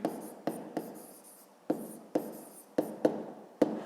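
A maths solution being written by hand on paper, close scratchy pen strokes in short bursts with sharp taps where each stroke begins, broken by brief pauses.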